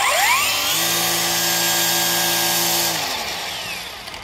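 A Ryobi 40-volt brushless battery string trimmer spins up and runs at a steady, loud electric whine for about two seconds, then winds down and fades.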